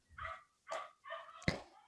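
A dog barks three or four times in quick succession, each bark short and sharp at moderate distance, with brief pauses between and a slightly louder final yelp, heard alone without talk.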